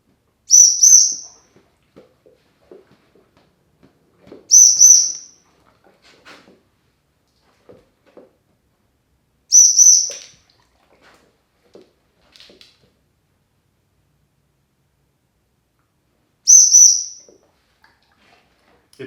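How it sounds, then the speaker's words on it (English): A dog training whistle gives four loud, short, high-pitched blasts spaced several seconds apart, with near-silence and faint rustling between them. "I'm going to keep my body nice and still as I blow the whistle"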